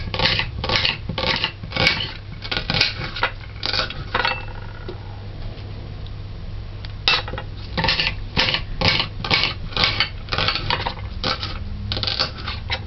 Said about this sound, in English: Dice the onions.